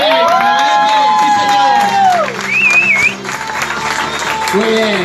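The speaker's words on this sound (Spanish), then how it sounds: "Fuerte aplauso para ellos, hombre." A crowd applauding and cheering at an outdoor bike trial exhibition, clapping under an excited announcer's voice, with whoops and shouts mixed in throughout.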